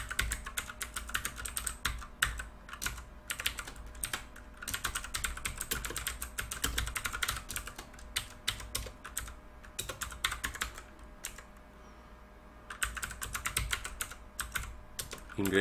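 Steady typing on a computer keyboard while entering program code, a near and busy patter of key clicks in bursts with a few short pauses, no voice over it.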